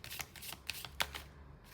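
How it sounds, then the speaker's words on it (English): Tarot cards shuffled and drawn, a close, soft run of quick papery riffles and slaps with a sharper snap near the end, quiet and without talk. "I'm just going to get one more card here."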